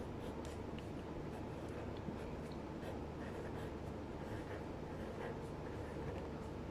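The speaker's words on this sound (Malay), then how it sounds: "Kita tulis dulu nombor ini. Tulis RM dulu." Pen scratching on paper while a maths exercise on dividing money is written out, a soft steady rasp running close and continuous over a low background hum, with no talking.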